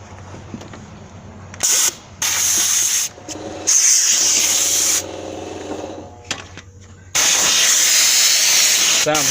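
Compressed air hissing in loud bursts from an air gun fitting during timing chain removal on a Suzuki Grand Vitara 2.5L, several harsh blasts of varying length, close by, with a low hum beneath.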